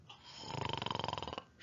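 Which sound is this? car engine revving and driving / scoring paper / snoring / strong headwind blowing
snoring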